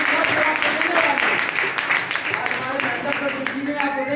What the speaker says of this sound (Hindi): हमारे माननीय महेंद्र सर के लिए मैं चाहता हूँ जोरदार ताली बजाइए